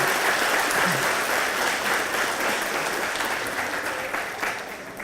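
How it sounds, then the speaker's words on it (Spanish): Audience applause at a public forum on gender issues, a steady dense clapping that holds for the whole stretch and fades only slightly toward the end, with no voices over it. "Creo que eso merece un aplauso"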